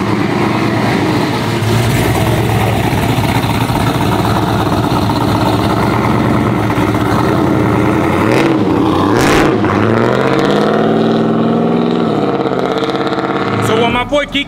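An overhauled truck engine runs steadily and loud for the whole stretch, with a rising rev near the end, while someone talks over it throughout.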